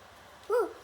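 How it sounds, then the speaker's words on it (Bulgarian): A single short whimpering yelp from a Minecraft dog, clean and game-like, rising briefly over a quiet background hum. "Кученце!"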